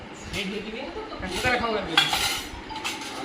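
Plates and cutlery clink and clatter at a home birthday cake cutting, a busy run of short chinks and scrapes close by, with people talking over it throughout.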